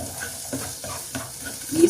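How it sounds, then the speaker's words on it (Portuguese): Onion frying in a little oil in a pan, stirred with short scraping strokes over a steady close sizzle, a louder scrape toward the end. "Aí eu dou uma mexida aqui."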